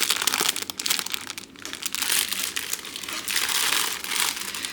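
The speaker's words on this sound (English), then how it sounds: "I'm trying to squish that paper flat." Paper crinkling and crumpling up close as it is pressed and squished flat during a cross-stitch kit unboxing, a steady rustling burst with a brief lull partway through.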